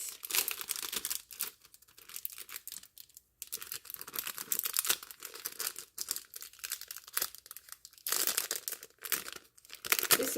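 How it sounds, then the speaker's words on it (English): Plastic wrapping crinkles and tears as it is pulled off a new deck of apothecary flashcards, up close, in busy bursts broken by brief pauses. "Let me take the plastic off."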